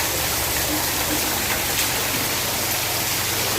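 Water rushes in a steady, unbroken broadband flow, close and fairly loud, with no talk over it.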